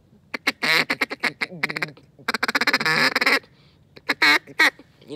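Feed call on a duck call mimicking a single duck, a close, loud burst of rapid chattering quacks in uneven clusters, with brief pauses between runs and no voices.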